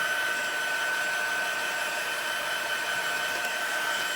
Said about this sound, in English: let me just run my heat tool on the watercolor paper